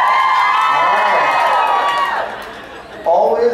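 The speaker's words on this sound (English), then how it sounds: "Always a louder woo on the second one." A comedy club audience in Nashville lets out a loud whooping and cheering woo that rises, fades, then swells again briefly at the end.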